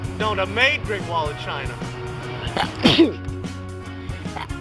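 A sharp sneeze bursts out near the three-second mark in a casual indoor chat, loud and close, with people talking before and after it.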